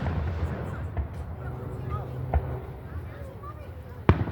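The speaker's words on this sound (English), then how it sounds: "those are the Dover fireworks" Fourth of July fireworks over Dover thump in several dull, distant booms, with one sharper, louder bang near the end, under a low rumble of crowd noise.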